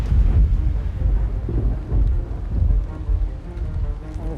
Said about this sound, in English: There's rain now pouring down off the rock.